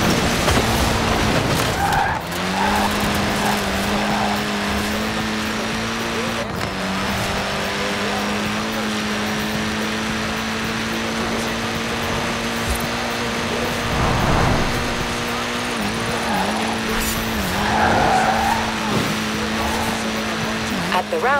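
A Mini Cooper S racing in Forza Horizon 4, its engine holding a steady droning note as it drives on, with brief tyre squeals and skids mixed in and someone narrating over it.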